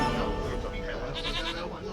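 A goat bleats in The Witcher 3: Wild Hunt, a wavering, nasal call mixed in with speech-like voices and game background sound across a short stretch.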